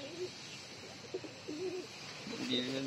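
A domestic pigeon in a coop coos quietly, a few soft low warbling calls spread across the moment, faint against background room noise.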